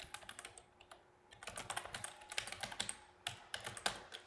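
Fingers type steadily on a computer keyboard during work on Microsoft Intune configuration, a close run of quick irregular clicks with brief pauses, no talking.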